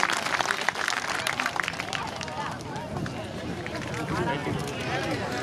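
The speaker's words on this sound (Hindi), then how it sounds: "तो जोरदार तालियां हमारे सांसद जी के लिए।" An audience at a Veer Tejaji temple program gives loud, dense clapping for a member of parliament, sustained across the clip with crowd voices and chatter mixed in.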